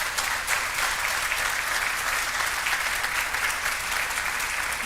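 An audience claps in sustained, even applause at a governor's announcement on waterfront investments in Buffalo, dense and steady for several seconds with no speech over it.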